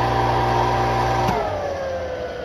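WEG 1.5 hp single-phase pump motor with a start capacitor starting up, a loud steady hum and whine that shifts pitch partway through as it comes up to speed and settles, with no talk.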